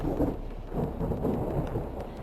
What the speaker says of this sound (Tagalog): Kulog sa langit.